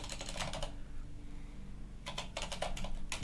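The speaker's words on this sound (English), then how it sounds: "It is quite a bit of typing, right?" Rapid typing on a computer keyboard while entering a long Linux install command, in two bursts of clattering keystrokes separated by a pause, close and fairly loud.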